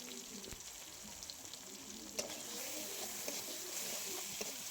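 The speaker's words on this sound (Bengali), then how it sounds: "টমেটো কুচিটা এভাবে নাড়তে থাকবো" Chopped tomato stirred and fried with onion in a pan, a steady quiet sizzle with occasional soft scrapes of stirring throughout.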